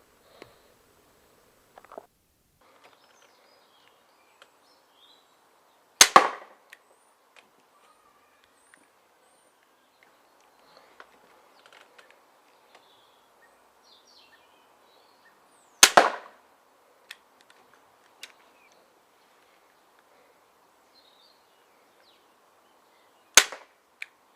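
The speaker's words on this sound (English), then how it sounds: "the next bit of footage you're going to hear is the true sound of the gun" Three sharp, snappy shots from a Gamo Falcon .177 air pistol ring out several seconds apart, near and crisp, with faint handling clicks between them.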